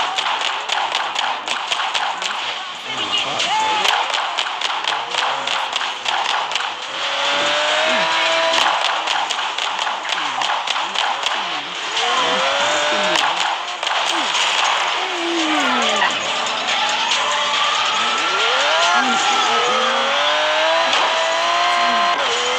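Revving car engines and squealing, skidding tires in a racing video game play continuously and loudly, with pitch sweeps as the cars accelerate and slide, along with repeated thumps and taps.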